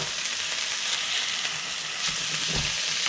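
Triggerfish sizzling and frying in a pan, a steady crackling hiss close up with small pops and bubbling throughout, no voices.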